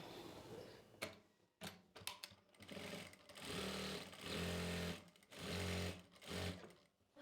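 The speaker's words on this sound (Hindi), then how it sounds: "यहाँ से हमें इसको सिलाई लगाना स्टार्ट करना है।" A sewing machine stitches a salwar in several bursts of steady running, each a second or so long, separated by short pauses and sharp clicks, close and clear.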